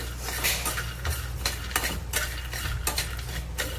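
Roasted chickpeas (futane) are dry-roasted in a pan, with quick clattering scrapes and rattles as a spoon stirs them in repeated strokes, close and fairly loud, with only a faint sizzle underneath.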